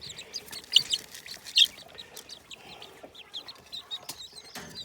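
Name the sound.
chickens clucking, broody chicks in coop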